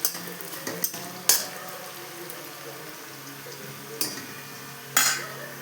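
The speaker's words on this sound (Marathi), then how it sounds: "आता ही कढई वापरली मी, ही लोखंडाची कढई, मोठी कढई. त्याच्यातच साबुदाणा मी करणार आहे" Sabudana cooks in a large iron kadhai, with a spatula scraping and clanking against the metal in a few sharp strikes over a soft, steady sizzle close by.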